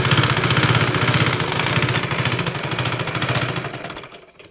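A sewing machine stitching lace onto a saree border runs with a rapid, steady mechanical chatter, close and loud, then slows and stops near the end.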